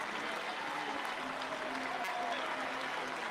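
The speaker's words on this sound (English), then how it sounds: "listen to the ovation from this Chapel Hill crowd" A Chapel Hill crowd at a North Carolina college baseball super regional against Arizona gives a steady, sustained ovation, a dense wash of applause and cheering from a large stadium audience throughout.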